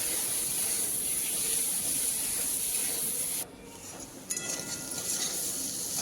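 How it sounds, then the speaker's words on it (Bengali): Dried chilli paste, ginger-cumin paste and green chilli paste frying with potatoes in a pan: a steady broadband sizzle and scraping that fills the clip, briefly dropping quieter midway before resuming. "সব কিছু আমি 2 মিনিটের মতো আলুর সঙ্গে কষিয়ে নেব।"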